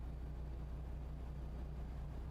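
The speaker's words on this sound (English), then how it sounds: "You can hear the diesel engine." Deep, even hum of a diesel truck engine in a trucking video game, a continuous low-pitched rumble running steadily and close without any voices.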